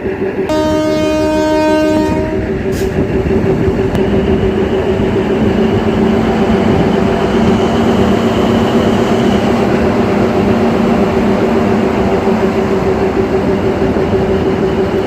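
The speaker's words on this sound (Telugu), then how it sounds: "ట్రైన్ అయితే బయలుదేరబోతుంది మనకి" A passenger train on the Secunderabad–Siddipet line pulls away from Gajwel station, opening with a loud sustained horn blast for about two seconds, then the steady rumble and rolling clatter of the carriages gathering speed, with no talk.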